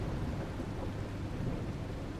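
Steady heavy rain and rolling thunder from a storm in The Last Caretaker, a continuous dense wash of noise with a deep low rumble throughout, close and unbroken, with no voices.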